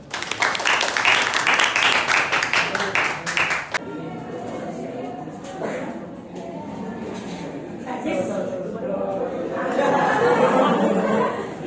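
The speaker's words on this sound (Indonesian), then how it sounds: "tepuk tangan" A classroom audience claps briskly and loudly for nearly four seconds, then the clapping stops abruptly and gives way to murmured chatter, soft chuckles and voices talking across the room.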